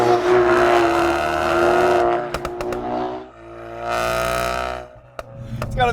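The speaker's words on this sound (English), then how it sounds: "It's got a Miltech exhaust on it, as you can tell." Ford Focus RS fitted with a Miltech exhaust and no catalytic converter drives hard, its engine note rising and falling through revs, with sharp crackles and pops from the exhaust between pulls.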